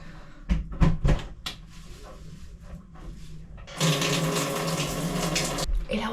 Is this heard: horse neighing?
no